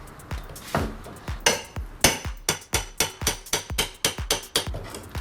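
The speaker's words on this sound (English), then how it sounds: "I like to start with a 3-foot crowbar and a hammer" Rapid, regular hammer blows strike metal against wood as a hammer and 3-foot crowbar pry pallet boards loose, a dozen or more sharp close-up whacks in a steady rhythm with a ringing edge.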